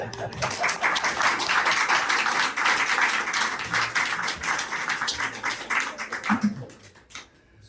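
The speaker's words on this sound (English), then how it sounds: "You don't have to hold your applause." Audience applause fills a conference hall at a Chicago talk about an Atlantis expedition, a dense steady clapping that holds for several seconds, then thins and fades out near the end.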